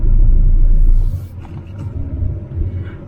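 Heavy morning traffic near the Shimla bypass produces a deep, close rumble of engines that swells loudly at first, dips, then builds again as vehicles creep forward, with no talking.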